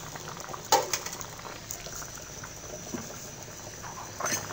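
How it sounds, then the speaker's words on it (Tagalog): Chicken curry with potatoes simmers in a pot, giving a faint, steady bubbling with soft irregular pops and a couple of brief clinks, with no talking. "kumukulo na siya"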